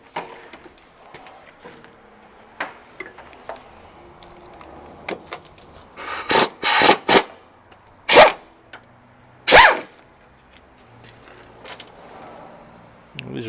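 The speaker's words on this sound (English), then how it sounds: "So I just try and take the nut off first." A nut is worked off a zinc-plated bolt on a Marmon truck sleeper in a shop, with light scattered clicks followed by several short, loud metallic bursts clustered near the middle and then quieter ticks.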